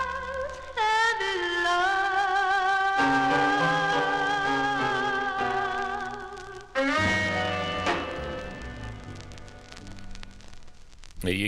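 A 1961 vinyl record plays a loud, full soul ballad with a sustained female vocal over band accompaniment, with a brief dip before the music swells again.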